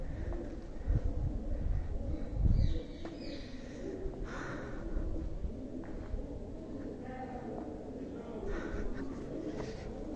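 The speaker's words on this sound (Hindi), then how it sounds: "कबूतर अपना कमाल दिखा रहे हैं।" Pigeons coo softly nearby at Mehrangarh Fort in Jodhpur with an occasional flurry of flapping, over a quiet outdoor background with brief distant voices.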